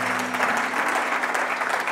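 A church congregation at an Easter service applauds and cheers for Jesus, a dense, steady burst of clapping filling the room with a few voices calling out beneath it.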